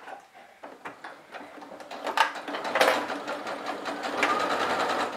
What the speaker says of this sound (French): je me mets sous la machine à 5 mm du bord du tissu. Et donc, c'est parti pour la couture.